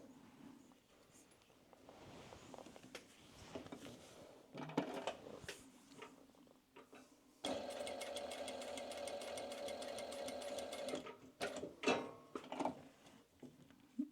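A sewing machine stitches through a piece of fabric after a thread-jamming fault, running in a few short bursts and then a steady fast clatter of several seconds, close and clear with no talking.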